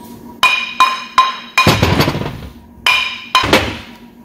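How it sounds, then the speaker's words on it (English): A hammer strikes metal six times while tapping parts out of a Dana 44 axle, sharp ringing taps at an uneven pace with short pauses between, loud and close with no talking. "Grab a hammer and tap those out of there."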